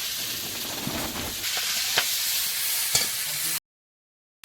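Malabar spinach added to potatoes fried in a pan, a continuous loud sizzle with occasional sharp pops and crackles, cutting off abruptly near the end.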